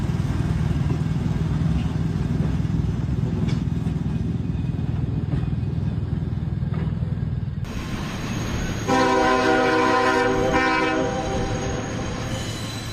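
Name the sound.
firefighting train passing with horn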